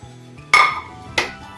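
A Korean chilli garlic potato dish is stirred in a pan, giving two sharp metallic clinks of utensil against the pan, each ringing out briefly over a quiet low hum.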